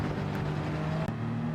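A Gr.1 prototype race car engine in Gran Turismo 7 drones steadily at high revs on Suzuka, with a brief dip as it upshifts from third to fourth before pulling again.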